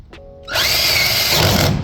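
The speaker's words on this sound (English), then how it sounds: "this is the scariest hole so far to drill" Power drill boring a hole for a plumbing vent pipe in a shed being converted to a home: a brief tick, then the motor spins up and runs loud and steady for over a second before cutting off.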